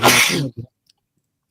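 A single loud, close sneeze bursts out sharply and then fades, followed by a brief short vocal sound and quiet.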